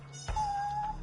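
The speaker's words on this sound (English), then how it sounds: "There's a cat and we must find it." A single cat meow from the PS5 detective game Judgment, a clear sustained cry of about half a second that rises abruptly and holds a steady pitch, heard close and alone over a low constant background hum.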